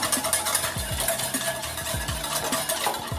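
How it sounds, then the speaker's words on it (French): Continuous whisking and stirring of a custard mixture of egg yolks in a bowl, with repeated soft scrapes and clinks against the sides. "Je mélange bien."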